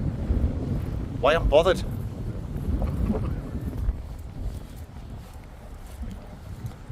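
Steady wind buffets the microphone on a Sunderland beach with a low, rumbling roar throughout, while someone speaks briefly over it.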